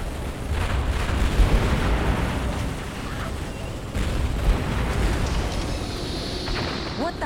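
Ordnance strike explosions in the Halo Wars video game, a sustained roar of blasts and rumbling booms that stays loud throughout, with battle noise and game voices mixed beneath.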